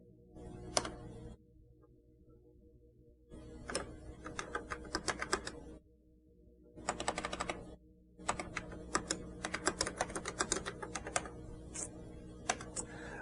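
Keys clatter on a Xerox Star computer keyboard in close, quiet bursts of rapid typing, separated by short pauses with a faint machine hum underneath.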